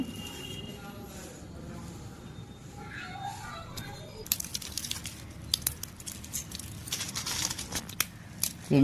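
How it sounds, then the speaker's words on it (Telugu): Dried red chillies are cut into small pieces. After a quieter start with faint background murmur, a run of crisp, dry snips and crackles follows in close, irregular bursts. "మిరపకాయలు ఇలా చిన్న చిన్న ముక్కలుగా కట్ చేసుకుని బాండీలో వేసుకుందామండి"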